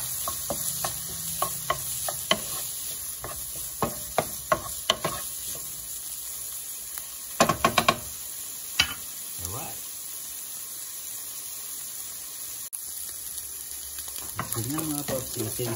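Shrimp sizzling and frying in a pan for basmati fried rice, a steady close hiss with scattered clicks and stirring scrapes throughout, plus brief water-like sounds partway through.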